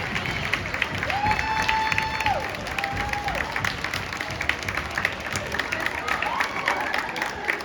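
Audience applause at a Future City 2023 awards ceremony, a dense steady clapping from a crowd that carries on throughout, with some cheering mixed in and a faint whistle-like tone rising and falling above it.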